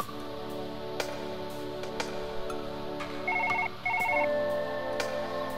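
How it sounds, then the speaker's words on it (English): A phone in the Surgeon Simulator video game rings in short electronic trill bursts, two clear pulses near the end over a steady game background hum with occasional clicks, moderately loud. "Oh, I'm getting a phone call."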